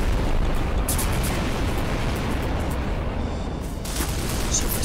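Bombs exploding in Garry's Mod: a dense, continuous rumbling roar of blasts and crackling debris, loud and close, with no pause across the clip.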